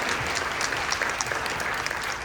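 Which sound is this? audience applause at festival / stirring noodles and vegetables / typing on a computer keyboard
audience applause at festival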